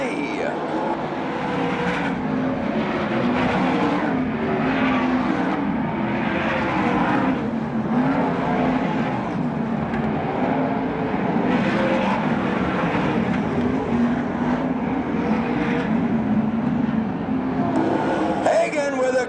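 360 sprint cars racing around a track in a USAC National/CRA Western World Championship event, a loud continuous engine roar rising and falling in waves as cars circle, under a race announcer's commentary.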